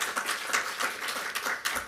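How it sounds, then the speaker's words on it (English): An audience at a literary festival in London applauding, a dense, fairly loud patter of many hands clapping continuously throughout. "I'm worried that you're using up my time with your clapping"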